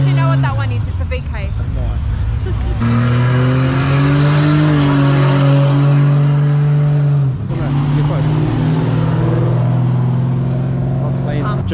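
A VK muscle car leaving a car meet revs hard nearby, a loud, deep engine roar that holds, rises and falls in pitch and briefly cuts out before roaring again.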